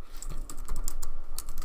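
Fast, steady keystrokes on a computer keyboard, close up and continuous for under two seconds, with no talking.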